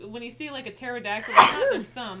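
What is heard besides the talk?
sneeze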